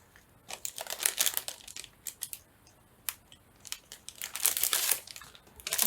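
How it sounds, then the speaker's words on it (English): Paper envelopes pulled from a card making kit, giving close, crisp crinkling and rustling in irregular bursts with short quiet gaps, with no talking. "I'll pull out a couple envelopes of each size so that we can decide what we want to work with."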